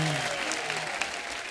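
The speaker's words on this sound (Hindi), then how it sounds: "आइए मेरी माँ के लिए जोरदार तालियां।" A studio audience at a comedy talk show claps loudly and steadily for a guest's entrance. The thick wash of applause carries on without a break, and a voice briefly sounds at the start.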